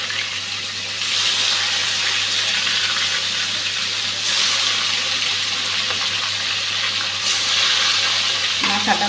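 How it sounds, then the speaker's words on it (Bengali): Fish pieces rubbed with salt and turmeric fry in a pan of hot oil, giving a steady, close sizzle with a few brighter surges of spattering and no talking. "মাছটা ভেজে নিচ্ছি"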